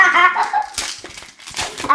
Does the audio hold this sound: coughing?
no